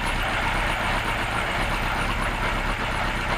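A Kawasaki Z1 motorcycle engine idles steadily at about 750 rpm during a run-up after restoration, a constant low rumble that stays even throughout, moderately close and heard with no talk.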